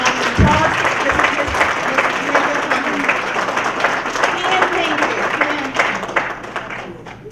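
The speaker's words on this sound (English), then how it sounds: "So please give a round of applause." A crowd at a community college diversity night applauds a retired high school art teacher, producing dense, sustained clapping with some voices mixed in that gradually thins toward the end.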